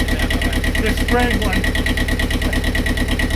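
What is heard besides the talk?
Universal Diesel 5411 sailboat engine running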